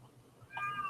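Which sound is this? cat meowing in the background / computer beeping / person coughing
cat meowing in the background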